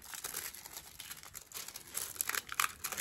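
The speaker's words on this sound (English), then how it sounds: "So I'll just unwrap this. Oh, the plastic is sticking to me." Thin plastic wrapping being peeled off a makeup item, close up, a soft continuous crinkling and crackling with a few sharper rustles toward the end.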